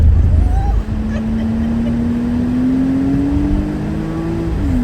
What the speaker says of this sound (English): There's the rev squealing.